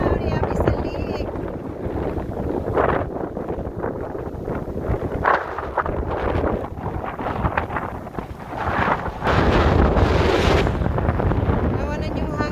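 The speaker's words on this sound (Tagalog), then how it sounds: "Nawanan yung hangin oh, sobra kakusog." Strong blizzard wind roars continuously across an open frozen lake at 3°F, buffeting the microphone with loud, gusty rumbling that surges louder toward the end, with a voice speaking under it.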